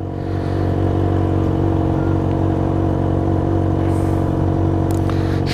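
A Yamaha XJ6 motorcycle fitted with a Harley-style exhaust idles and rumbles steadily at close range, a low throbbing engine note running throughout without pause.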